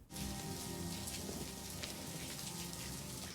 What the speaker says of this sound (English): There's a person walking in the rain.